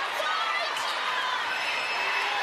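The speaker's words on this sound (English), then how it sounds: "This crowd are going off." A netball crowd roaring and cheering during a tense finish of a men's Fast5 final between New Zealand and Australia, a dense continuous wall of noise throughout, loud and close.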